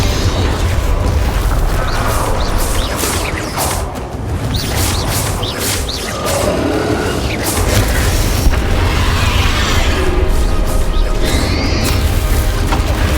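Spell explosions from the video game Hogwarts Legacy boom one after another, a dense, loud and continuous barrage of blasts and crashes with no pause between them.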